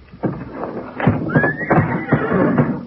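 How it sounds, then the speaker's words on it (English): Horses in barn stalls neigh and whinny in a radio drama, loud and close, with shuffling hoof sounds and a rising whinny cutting through the stamping. "All those old nags tied up in their stalls?"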